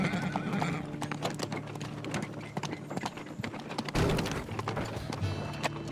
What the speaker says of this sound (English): Let's give our horsey a ride to our next destination